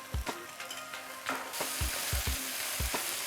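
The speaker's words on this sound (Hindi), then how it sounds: "घी डालने के बाद अब मज़ीद थोड़ी देर के लिए हमें इसको भूनना है अच्छी तरह से" Carrot halwa with ghee sizzles steadily in a pan while a spoon scrapes and stirs, leaving repeated dull knocks, close up with no talking.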